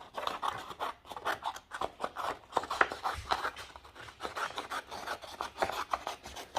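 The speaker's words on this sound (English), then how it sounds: "I am not doing a perfect job of cutting out" Scissors snip steadily through paper while a greeting card is cut out by hand: a close, dry rasping that repeats in quick, uneven strokes with no pause throughout.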